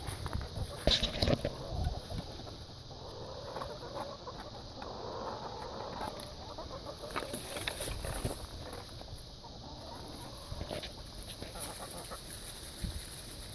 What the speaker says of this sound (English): I'm about to let the chickens out